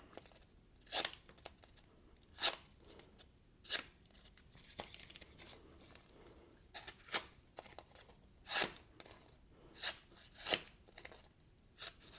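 Tape is torn from a roll and pressed onto a CJRB Pyrite Light folding knife, giving about nine quiet, sharp ripping bursts spaced a second or so apart, with soft handling noise between them.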